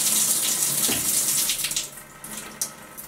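Water streams loudly from a shower head in a home bathroom with a weak flow. A close, steady hiss fades after about two seconds into softer splashes and drips, with no talking.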